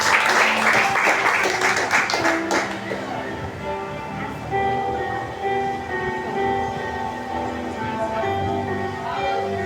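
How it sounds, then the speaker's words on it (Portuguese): Church congregation applauding the Lord at an evening family service, brief clapping in the first few seconds that gives way to sustained keyboard or organ tones underneath. "Pode aplaudir o Senhor e sentar no seu lugar nesta noite"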